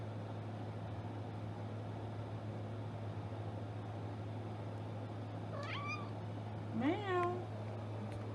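A cat meows twice, a short call then a louder, rising one a second later, over a steady indoor hum during a houseplant repotting session with several cats nearby.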